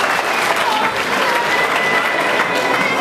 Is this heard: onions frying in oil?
no